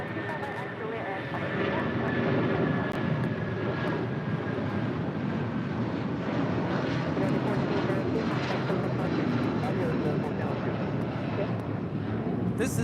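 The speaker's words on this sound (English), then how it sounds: "This is United 1402 departing to Newark on a 757-200." A United Boeing 757-200 jet departing LAX for Newark roars steadily and loudly throughout, a broad engine rumble that swells after the first second and holds, with voices talking faintly underneath.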